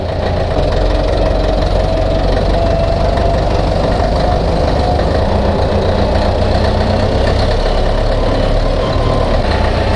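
A Hanomag R460 tractor engine runs steadily and close by, a loud continuous low rumble with a knocking, idling character throughout and no voices.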